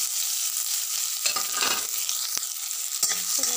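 Onions frying in smoking hot oil in a kadai for masoor dal with bottle gourd, a bright close sizzle broken by a few scraping stirs and metallic taps of the spatula.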